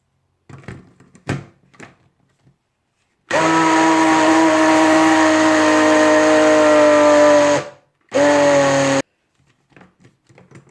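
Soaked lentils ground in an electric mixer grinder, a loud steady whine running about five seconds, a brief stop, then a short second burst, framed by clicks and knocks of handling the jar.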